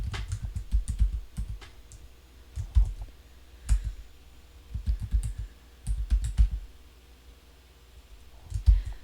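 Someone types code on a computer keyboard, close and clear, with quick bursts of clicking keystrokes separated by short pauses and heavier thumps on the spacebar or enter key.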